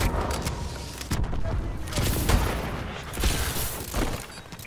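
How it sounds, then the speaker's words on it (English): Several heavy booming impacts from friendly missile strikes land in a multiplayer shooter game, arriving at irregular intervals over a steady bed of game noise and voices. "Friendly missile strikes incoming."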